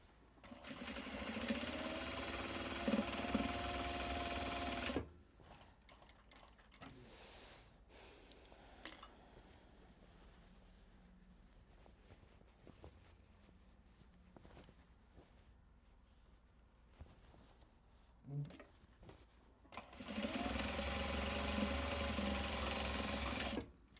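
A sewing machine runs in two long, steady, close bursts at the start and end while stitching small Japanese fabric box bags, with quiet handling and shuffling in between.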